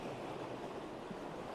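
Ocean waves wash onto the shore in a steady, even roar of surf, with wind, and no voices.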